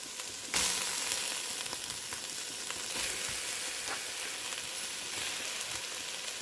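Destemmed, seeded guajillo chili peppers and chopped tomatoes fry in a pan. A sharp burst of sizzling comes as they go in, then settles into a steady close crackle with occasional stirring scrapes.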